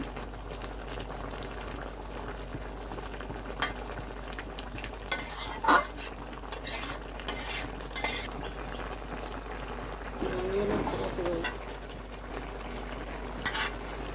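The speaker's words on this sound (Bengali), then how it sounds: "এখন আমরা একটু নাড়াচাড়া করে হলুদটা মিশিয়ে নিচ্ছি ঝোলটার সাথে" A spoon stirs rohu fish curry cooked with ivy gourd leaves, mixing turmeric into the simmering gravy: bubbling and light sizzling run throughout, broken by a few clustered scraping and clinking strokes in the pot, with no talking.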